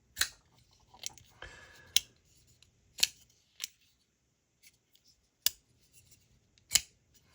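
Flick-opening of an EMP EDC Nymble folding knife, a 7-inch knife with a detent action: a series of sharp, close mechanical snaps and clicks spaced about a second apart, with small fiddling rattles between them.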